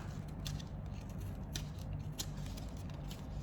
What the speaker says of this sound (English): Let's just cut a little bit here.